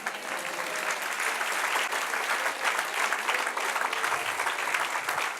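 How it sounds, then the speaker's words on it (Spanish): Congregation at a Spanish-language church service gives applause to the Lord, a continuous wash of many hands clapping at moderate distance, steady and fairly soft throughout. "Denle un aplauso al Señor."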